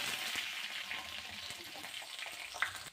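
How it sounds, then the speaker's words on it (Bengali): Nigella seeds, a few green chillies and a bay leaf sizzle in hot oil, a steady crackling fry heard close with small pops and no talk. "এবারে একটু কালো জিরে ফোড়নে দিলাম, আর কাঁচা লঙ্কা কয়েকটা, আর তেজপাতা"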